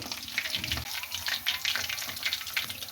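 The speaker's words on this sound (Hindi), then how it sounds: "और इस तरह हम सारे पीस फ्राई कर लेते हैं।" Fish pieces fry in hot oil for a Pakistani-style crispy fish fry, giving a steady, close sizzle with scattered crackling pops throughout and no talking.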